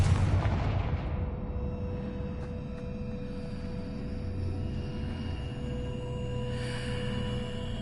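A Confringo explosive spell blast in the video game Hogwarts Legacy, a loud booming impact at the start that decays into a long, rumbling tail with lingering ambient hum.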